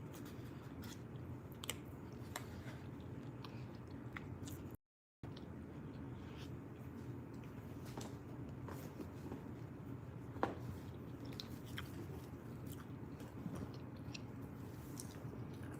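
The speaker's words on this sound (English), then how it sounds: "if you hear me chewing," A person eats breakfast close to the microphone, with soft, repetitive chewing and small crunching clicks scattered over a steady low background hum, continuing throughout apart from one brief gap of silence.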